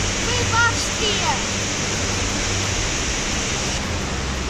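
The Leutaschklamm waterfall gives a steady, broad rushing roar that fills the scene at constant loudness, with brief voices speaking over it.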